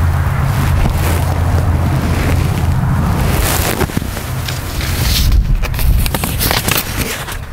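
Wind blows outdoors over raised garden beds, a loud rumbling gust buffeting the microphone that swells and eases without letting up.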